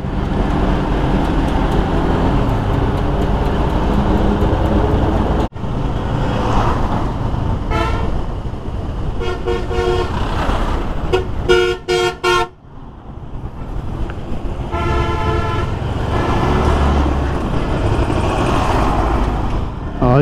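Dense, loud road traffic in Bangladesh with trucks and cars, repeated car horn toots and honking bursts over a constant engine and road roar, including a cluster of rapid horn blasts near the middle.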